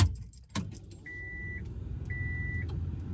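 A key turns in a car's ignition during engine tuning prep, with a brief jangle and click up close, followed by a quiet low hum and intermittent electronic beeps, no talking.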